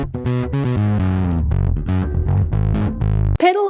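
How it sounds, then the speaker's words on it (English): Guitar run through the Pedal distortion effect in Ableton Live 10, a loud, continuous sequence of sustained overdriven notes and chords with rich, buzzing harmonics, ending with a brief bent, wavering tone. "Pedal is a guitar distortion effect."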